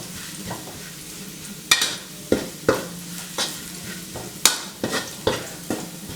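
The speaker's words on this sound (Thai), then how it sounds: "ตอนที่เราจะผัดเครื่องแกงกับกระเทียมเนี่ยครับเพราะว่ามันจะต้องผัดให้หอม" Curry paste and garlic stir-fried in a pan over low heat for a northern Thai chilli paste: a steady soft sizzle broken by repeated sharp spatula scrapes and knocks against the pan, close up with no talking.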